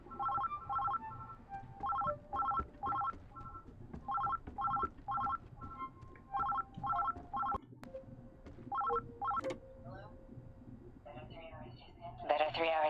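A telephone rings in Oxenfree II, repeating in short, evenly spaced electronic bursts over a quiet ambient bed, with a few other tones and a rising effect near the end.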